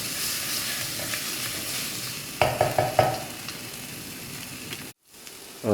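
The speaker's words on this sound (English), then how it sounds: "So we'll continue to fry until we see the oil come out from the spice mixture." Spice paste and oil frying in a pan for Malaysian devil's chicken, a continuous close sizzle with a few sharp stirring scrapes partway through and a brief break near the end.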